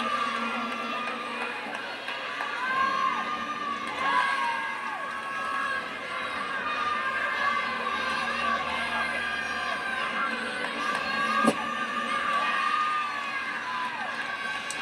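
Crowd at a women's college gymnastics meet, California versus Arizona State, a broad arena roar of cheering and shouting that swells and holds, with a sharp clap near the end.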